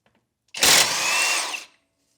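A Masterforce 1/2-inch high-torque cordless impact wrench tightens an axle nut in a single loud burst of about one second, whirring and hammering, then stopping abruptly.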